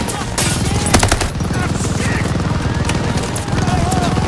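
Rapid gunfire from the Call of Duty Vanguard campaign, Rats of Tobruk mission, with dense fast bursts of automatic fire going on continuously and loudly, a heavier shot near the start, and a speaking voice audible underneath.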